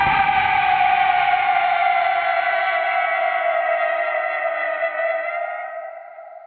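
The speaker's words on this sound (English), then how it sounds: "I don't know if there's any specific kaiju that may have used a sound sample similar to a slowed down firework" A firework slowed to 20% speed becomes a long, deep, roaring drone like a monster's bellow, held steady for several seconds, then fading out at the end.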